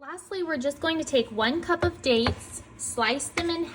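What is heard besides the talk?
None of the usual background noises is heard.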